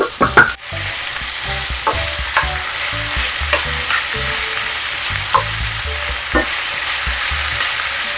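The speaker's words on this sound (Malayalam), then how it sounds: "പെട്ടെന്ന് സവോള വഴറ്റി കിട്ടുവേ" Sliced onions sauté in a frying pan with a steady loud sizzle, broken by repeated scraping stirs of a spatula at an irregular pace, close and alone.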